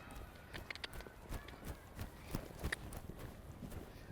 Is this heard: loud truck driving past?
no